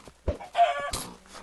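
A chicken in Minecraft clucks in a few short, close bursts, with one louder squawk in the middle, heard alone without talk.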